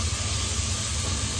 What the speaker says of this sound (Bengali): হ্যাঁ, পেঁয়াজটা ভাজা ভাজা করে যাচ্ছে।